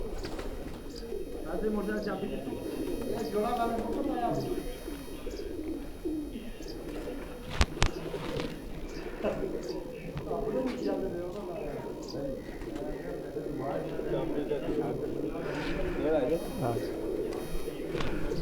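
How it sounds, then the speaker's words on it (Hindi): A domestic racing pigeon coos softly in the background, low repeated calls half-buried under ongoing men's conversation close by, with a brief sharp knock midway. "ये वो कबूतर है"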